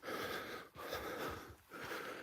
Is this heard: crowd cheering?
no